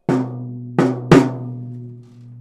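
A drum is struck three times, two evenly spaced hits and a third slightly quicker, each a close, resonant thump with a sustained ringing tone that slowly fades; no talking.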